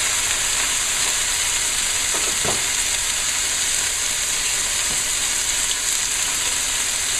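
Blackened lobster tails frying in a pan in a home kitchen, a loud, steady hiss and sizzle that fills the whole clip, with a few brief scrapes partway through and no speech.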